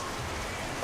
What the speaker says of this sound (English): Show and a little rain. I say little, but it's a lot.